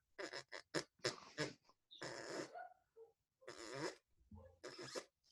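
A person makes a string of wet, buzzy fart-like mouth noises, imitating a dog passing gas, in short bursts with pauses between them.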